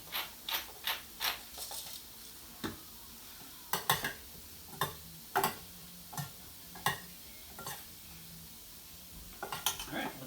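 A grinder cracks fresh salt and pepper in a kitchen, giving short, crisp ratcheting crunches in irregular bursts, quiet and close, with brief pauses between twists.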